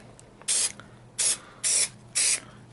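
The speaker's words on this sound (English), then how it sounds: "You got to be able to control that spray pattern." An aerosol can sprays a coat onto a 2004–2008 Acura TL door panel insert in four short, evenly spaced hissing bursts. The bursts are close and crisp, with quiet pauses between them and no talking.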